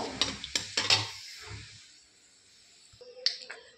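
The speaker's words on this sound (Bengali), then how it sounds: "এখন আমি এখানে দিয়ে দেবো কালো জিরা, শুকনো লঙ্কা, তেজপাতা। এটা দিয়ে আমি একটু নেড়ে চেড়ে নেব।" Nigella seeds, dried red chillies and bay leaves hitting hot oil, a burst of crackling pops and spatters at first, then softer sizzling as a utensil stirs the pan, close up without speech.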